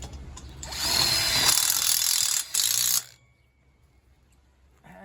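A power drill drives a screw into greenhouse end-wall framing for a polycarbonate-glazed high tunnel. One close whirring run lasts about two seconds, breaks briefly, then ends with a quick clicking clutch ratchet before it goes quiet.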